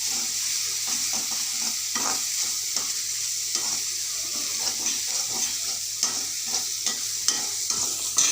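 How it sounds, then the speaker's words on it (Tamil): Ginger and garlic sautéed in a pan for a mushroom omelette gravy, a steady close sizzle punctuated by regular scraping stir strokes, with no talking over it. "அதையும் நல்லா வதக்கு அந்த பச்சை வாசனம் போக நல்லா வதக்கணும்"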